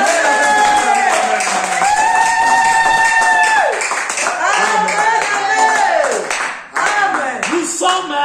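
A church congregation claps and cheers, with steady applause mixed with loud singing and shouting voices throughout.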